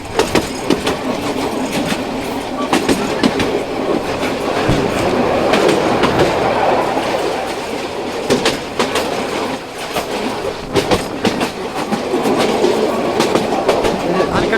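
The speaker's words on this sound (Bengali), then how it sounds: "যেহেতু আমাদের ট্রেনটা ডিজেল চালিত, তো সেক্ষেত্রে ধোঁয়া একটু বেশি হবে।" A diesel-powered Dolonchapa Express passenger train runs on, wheels clacking in a steady rhythm with occasional squeals, loud and close as from inside a carriage, with faint voices now and then.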